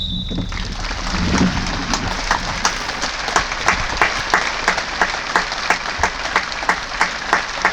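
A football crowd at a Lewes v Margate match gives a minute's applause for Derek after the referee's whistle, steady clapping filling the ground with sharper individual claps standing out across the stands.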